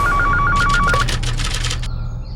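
A telephone rings with a repeating electronic trill, several quick bursts in a row, loud and close, followed by a brief rustle and room noise; no one speaks over it.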